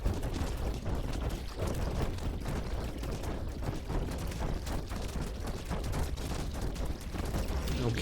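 Artillery fires nonstop in the bug strategy game Buggos, a thick, rumbling barrage of overlapping blasts and crackles that holds at an even level from start to finish.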